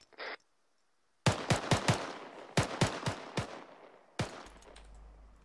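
Covering fire in an Arma military game: after a brief blip and silence, sharp rifle shots ring out in quick, uneven groups of single cracks, loud and close, ending with a final shot and low rumble.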